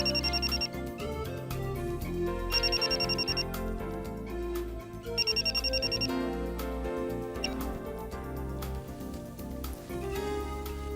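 A phone ringtone-style electronic melody plays continuously, with bright repeating beeping bursts recurring every couple of seconds over a full musical backing.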